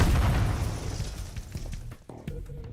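A grenade goes off in a Metal Gear Solid video game, a loud booming blast that decays over about two seconds into scattered game sounds.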